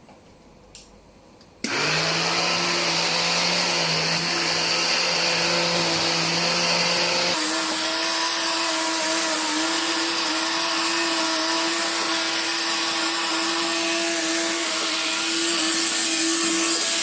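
An electric blender whirs loudly as it liquidises onion gravy, starting abruptly after a quiet moment, then running steadily with a pitch change partway through as the mixture thins.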